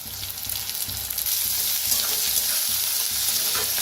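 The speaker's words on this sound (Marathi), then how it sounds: "छान असं भाजून घेऊया दोन्ही बी, कांदा कांद्याची पात।" Onion, spring onion and curry leaves frying in a pan for masoor dal kanda: a steady, loud, close sizzle with a dense crackling hiss and faint stirring thumps underneath.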